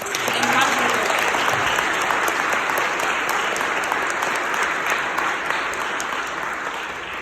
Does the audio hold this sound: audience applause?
yes